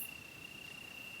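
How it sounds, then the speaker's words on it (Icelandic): Crickets chirp at dusk in the Italian countryside, a steady high-pitched trill that runs unbroken over a faint low background hush, with no voices. "Kribburnar tísta af kappi"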